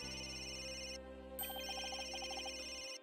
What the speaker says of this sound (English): What's that ringing coming from?